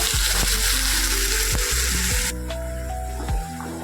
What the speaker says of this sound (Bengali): এই মশলাটা দিয়ে খানিকটা এবার এর মধ্যে কষিয়ে নেব।